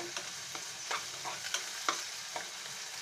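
Quiet, steady sizzling of onions frying in a pan, with occasional light clicks and scrapes of stirring, no voices.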